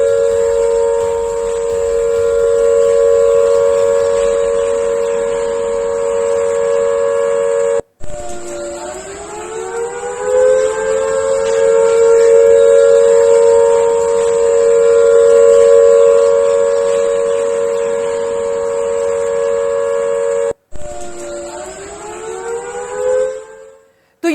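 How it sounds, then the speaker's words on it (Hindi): Civil defense sirens wail steadily and loudly in Chandigarh, their tone dipping and rising again twice, with no voices over them. "पहले जरा सुन लीजिए किस तरीके से सायरन बज रहे हैं"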